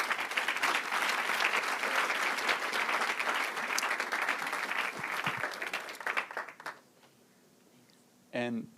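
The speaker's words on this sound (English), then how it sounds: "Please give a round of applause for our panelists." An audience at a climate action panel discussion claps for the panelists, loud sustained applause that fades out after about six seconds, followed by a brief spoken voice at the end.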